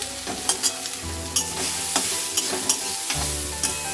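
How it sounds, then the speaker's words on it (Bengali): Ghee frying with cardamom and bay leaf in a wok gives a steady sizzle, with sharp scraping strokes of a spatula stirring at irregular intervals and a low hum beneath; no voices. "ঘিটা প্রথমে দিয়ে কড়ার মধ্যে, আর এলাচ আর তেজপাতা দিয়ে দিয়েছি।"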